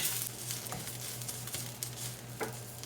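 Raw curry leaves fry in a pan, giving a soft, close sizzle with light stirring scrapes and crackling pops, and nobody speaks.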